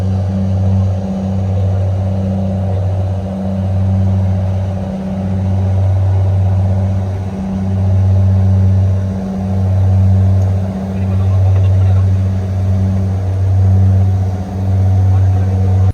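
Ferry engine during a two-and-a-half-hour crossing in the Philippines, a steady low droning hum with a slow rhythmic pulsing swell, constant and close throughout.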